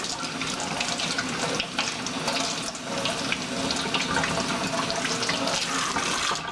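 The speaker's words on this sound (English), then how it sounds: "So now I'm going to go over to the sink and I'm going to run cool water." Cool water runs steadily from a sink tap, a continuous broadband splashing rush that stays loud and even throughout with no voices.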